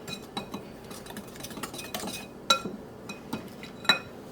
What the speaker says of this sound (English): Mix those together well.